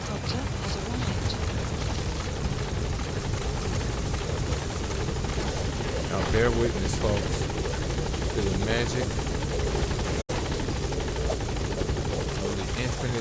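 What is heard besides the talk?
support helicopter in Metal Gear Solid V video game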